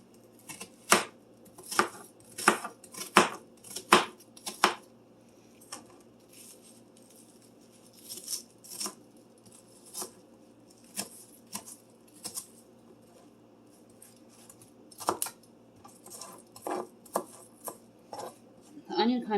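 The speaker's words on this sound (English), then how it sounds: "The onion kind of fell apart on me, so let's just cut it up this way." A knife chops an onion on a cutting board: a quick run of sharp, close thuds at first, then slower, scattered cuts and light scraping clatter, with long quiet gaps between strokes.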